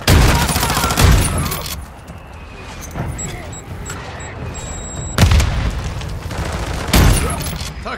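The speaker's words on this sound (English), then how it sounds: "Friendly mortar strike on the way." A friendly mortar strike in the video game Call of Duty: Modern Warfare 2 lands as several heavy booms over a constant rumble of battle, with three distinct impacts and some voices.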